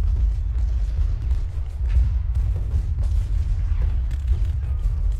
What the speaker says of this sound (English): Just hold where you are so that these cannons can continue to just blast them.